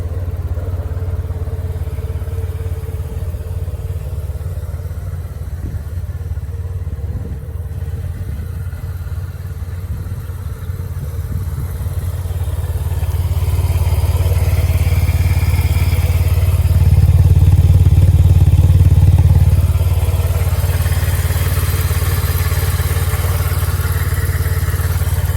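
A Yamaha TMax 500 scooter engine cranks and catches, then runs at a steady low idle, close and loud, with a swell in revs partway through.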